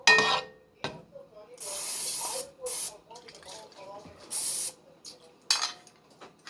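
Several short bursts of cooking spray hiss close by into a pan, separated by pauses, with faint clinks of the pan and quiet movement in between.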